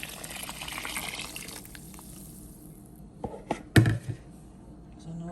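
Water poured into a pot of white beans: a pouring, filling splash at first that gives way to a few sharp knocks and clatters of the pot.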